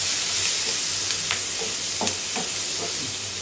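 Onion and garlic fry in a pan for a Bengali stingray fish bhuna, a dense steady sizzle with scattered scraping clicks from stirring, close and continuous throughout.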